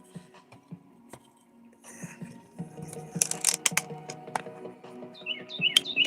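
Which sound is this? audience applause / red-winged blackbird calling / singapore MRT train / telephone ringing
red-winged blackbird calling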